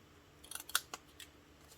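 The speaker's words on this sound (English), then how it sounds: "just cut those little edges off again" Paper gift box edges being trimmed with scissors, a quick cluster of crisp snips close by, then a few softer cuts trailing off, with no voices.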